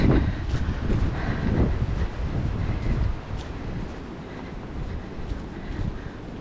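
Wind gusts along a forest trail on Staten Island's Greenbelt, a broad rushing roar that buffets the microphone, strongest at first and easing slightly to a steady blow.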